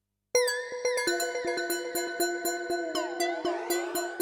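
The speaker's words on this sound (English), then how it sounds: "Some people find the reverb on these patches a bit heavy-handed" A bright synth chord from the Aparillo (Sugar Bytes) synth rings out with repeated plucked notes, each tail washing into a long, lush reverb that swells and smears into a shimmering wash.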